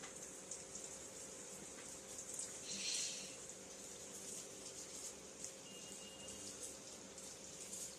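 Sweet vada donuts fry in hot oil, a faint, even sizzle of fine crackles and hiss running continuously without any talk over it.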